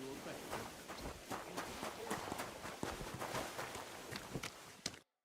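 Rhythmic horse hoofbeats in the video game Kingdom Come: Deliverance II clip-clop steadily at a walking pace, fairly close, with faint ambient noise underneath, then stop abruptly.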